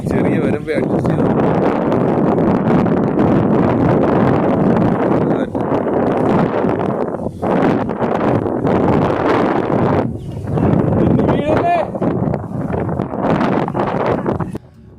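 Strong gusty wind sweeps across narrow field ridges at Sambavar Vadakarai, buffeting the microphone in loud, continuous roaring bursts while a person talks over it.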